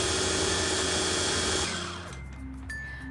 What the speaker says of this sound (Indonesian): Semua bahan sudah masuk ke dalam food processor. Satu wadah, sekali tekan tombol, adonan sehat siap untuk dipanggang.